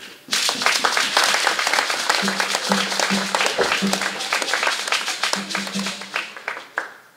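Festival audience applauding at Traces 2025 in Ouidah, Benin: dense, sustained clapping from a large crowd, loud and continuous for several seconds before thinning out at the end.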